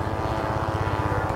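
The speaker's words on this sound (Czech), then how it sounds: "Takže zvuk i let toho modelu je neuvěřitelně realistický." Radio-controlled scale model of a Let L-410 aircraft in flight, giving a loud, steady propeller drone with a fast pulsing beat that holds continuously and close.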